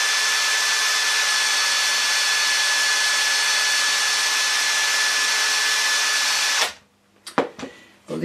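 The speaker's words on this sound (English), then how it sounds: "this is actually the mechanism out of an old twin tub washing machine to make the impeller go backwards and forwards" The reversing gear mechanism from an old twin tub washing machine runs with a steady, loud mechanical whirr for several seconds, then stops abruptly, leaving a few faint clunks and rattles.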